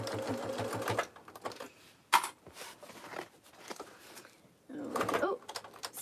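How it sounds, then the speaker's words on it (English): A sewing machine stitches a tote bag seam in a close, rapid burst of rhythmic needle clatter, then stops; quieter handling and rustling follow before another short run of stitching, with a person talking at points in between. "And I am going to sew with a 1/2 inch seam allowance."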